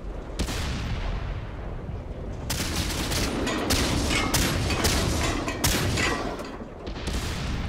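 In a World of Tanks battle, heavy tank cannons boom repeatedly over a rumbling backdrop. The blasts come in a thick, loud cluster of overlapping shots and echoes.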